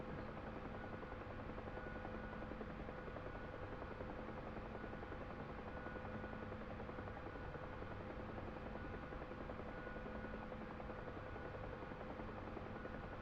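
A gunship helicopter in flight acting as an escort, its rotor and engine making a steady, even drone that holds at a constant faint level throughout, with no voices.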